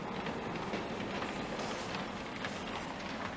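A model railway train runs steadily around an indoor layout, a constant rolling rumble with faint rhythmic clicking of wheels over track joints, no voices heard.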